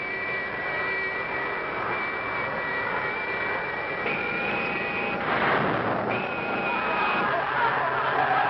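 A spacecraft engine roars steadily in a 1959 Japanese sci-fi film, a continuous jet-like drone with tonal whine that surges and swells louder midway as thrust is turned up.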